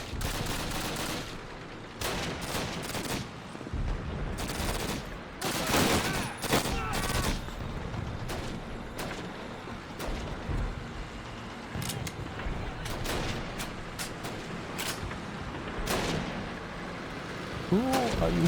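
Repeated gunfire bursts and explosions from the World War II shooter Call of Duty: United Offensive, loud and dense throughout, with rapid shots and heavy blasts layered over one another and a player talking over parts of it.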